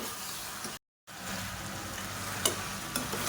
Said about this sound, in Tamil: அதையும் சேர்த்துக்கலாம் சேர்த்துட்டு இது எல்லாத்தையுமே நல்லா வதக்கிக்கலாம்